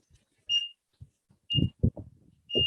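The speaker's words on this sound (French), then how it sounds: "à la fin, vous allez entendre 4 bips" Short electronic timer beeps sound three times at regular intervals during a fitness training session, the last one overlapping with low thuds and movement noise.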